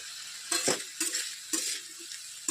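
Potato and cauliflower fry in a pan with chopped onions: a steady sizzle broken by several sharp spatula scrapes and clinks against the pan, spaced about half a second apart.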